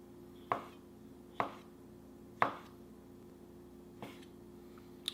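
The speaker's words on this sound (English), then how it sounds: "I'm just chopping up olives." A knife chops olives on a board in four sharp, spaced strikes followed by a lighter tap, close and clear against a quiet kitchen background with no voices.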